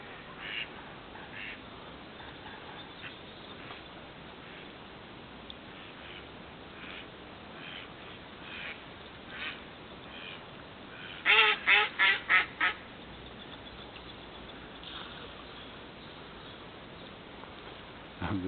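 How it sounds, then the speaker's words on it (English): Distant outdoor ambience with a sudden burst of five or six loud duck quacks in quick succession midway, then quiet again. "the ducks are causing chaos up on that corner there"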